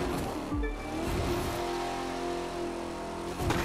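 Video game car engine from The Crew 2 driving on a summit course, a steady mid-pitched drone throughout with shifting revs, loud and close with no talk.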